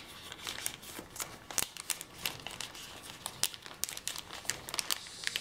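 Paper coffee bags crinkle and crackle up close as they are folded and worked into a woven heart, producing irregular bursts of dry rustling at a soft level.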